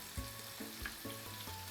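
Seasoned corned beef with paprika fries in a pan, a steady soft sizzle with a few light stirring clicks and scrapes, heard close and quiet with no talking.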